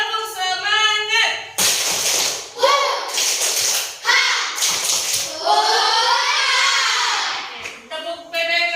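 A class of children performs a rhythmic clapping cheer, with short bursts of sharp claps alternating with loud group chanting and a teacher's voice leading.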